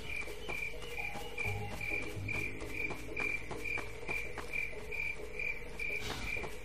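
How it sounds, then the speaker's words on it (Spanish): Crickets chirp steadily in a daytime area with plenty of vegetation in a Half-Life 2 mod game, a dense, continuous insect trill with regular pulsing, moderately close and alone without speech. "Escucho grillos, pero ¿grillos de día?"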